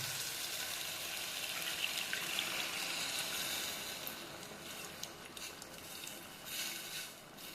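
Tamarind water with lemon being poured into a pot of sambar, a soft continuous trickle and splash at low volume, with a few faint clinks.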